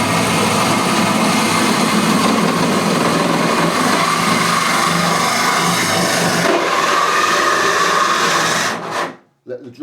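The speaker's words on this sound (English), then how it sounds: "Let the drill do the work as well." A loud, high-pitched power drill whirs steadily for several seconds, grinding into a kitchen worktop, then cuts off abruptly near the end.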